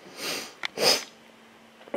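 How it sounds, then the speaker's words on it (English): One person with allergies gives a quick sniff, then a sharp sneeze, then another short sniff, close and fairly quiet in a still room. "my allergies are kicking in, so I keep sneezing"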